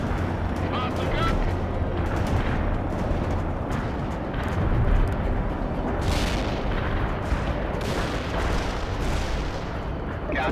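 An artillery fire mission in World in Conflict, with a dense, continuous rumble of heavy shelling and booms, and radio-style voices talking over it.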